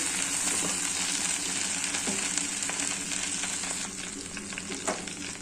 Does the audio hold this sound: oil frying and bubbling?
yes